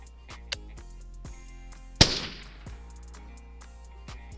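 A rifle bullet strikes a steel plate 1,010 yards away with one sharp, loud clang that rings briefly and fades, followed by a few faint ticks, with no voices.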